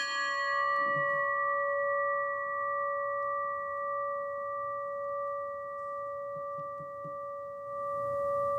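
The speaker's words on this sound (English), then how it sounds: "whenever you hear a bell ring, an angel gets its wings" A bell rings with a sustained, steady tone that hangs in the air for several seconds, clear and undamped, with faint background noise beneath.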